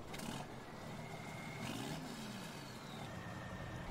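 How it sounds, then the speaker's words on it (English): A tractor engine starts up in Farming Simulator 19, a steady low mechanical drone with thin tonal whines and beeps sliding across it, fairly loud and continuous with no voices. "Start the tractor up."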